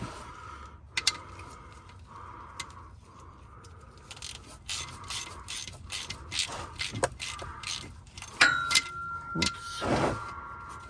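Wrench working a bolt on a 2011 Range Rover L322 5.0 supercharged during a drivetrain fluid service, quiet intermittent ratchet clicks and metallic taps, growing busier and louder toward the end.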